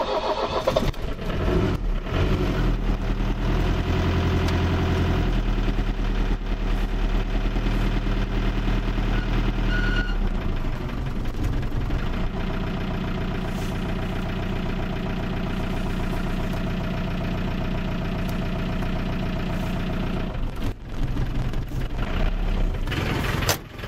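A car engine under head gasket repair cranks and fires, then settles into a steady, close idle with a low droning rumble that holds for the rest of the span.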